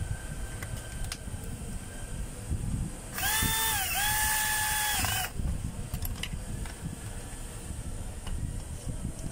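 A power drill drives a screw while a gear case is assembled, giving one steady whining burst of about two seconds with a slight pitch dip midway, heard close over quiet background noise.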